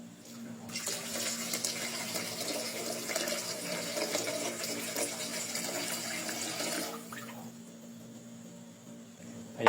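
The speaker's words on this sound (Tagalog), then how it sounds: "Lagyan natin ngayon ng sabaw." Broth pours steadily into a cooking pot for fish sinigang with sautéed garlic, ginger and onion, making a continuous splashing, rushing liquid sound for about six seconds before tapering off, close and alone.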